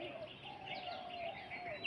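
Pigeons on a rooftop with cloudy skies overhead, giving soft, faint calls and murmurs against a quiet outdoor background for a brief moment.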